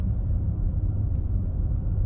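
Simulated engine rumble piped into the cabin of a 2025 Mercedes-AMG S63 E Performance luxury sedan, a steady low drone that holds even and unbroken throughout.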